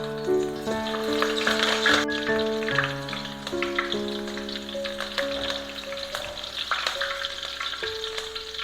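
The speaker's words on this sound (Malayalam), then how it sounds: "ഞാൻ ഇതിലേക്ക് കുറച്ച് കരിവേപ്പില ഇടുക കേട്ടോ." Curry leaves dropped into hot oil in a frying pan for brinjal fry, crackling and sizzling up close while a utensil stirs, with a few clinks against the pan.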